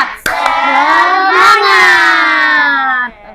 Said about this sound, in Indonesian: ice breakingnya kita gunakan tepuk semangat